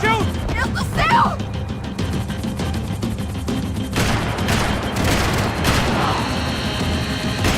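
Gunfire and explosive booms in the video game Max Payne 3, dense bursts and crashes throughout, mixed with shouting voices and game music.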